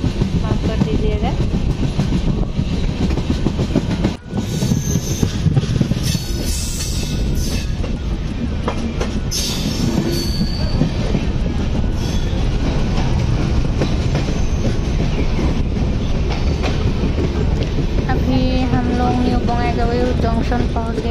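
Train on rails during an Assam to Patna journey, a loud continuous rumble with rhythmic clickety-clack and occasional squeal, heard up close from onboard.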